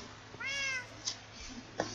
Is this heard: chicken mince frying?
no